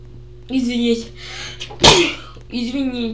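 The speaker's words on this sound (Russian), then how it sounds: "Чихаю, блин." A single sharp sneeze bursts out at close range in an indoor setting, flanked before and after by bursts of a woman's speech.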